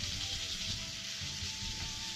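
Meat sizzles steadily in a pan at a mountain tent campsite, a close, continuous hiss and crackle with no pauses.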